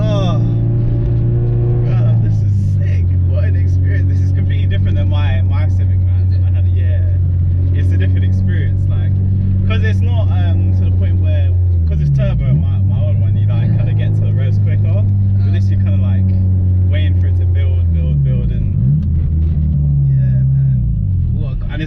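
A stripped-out, straight-piped Honda Civic EP3 Type R engine drones loudly and steadily close by, with its pitch dipping and rising around shifts near the middle and end.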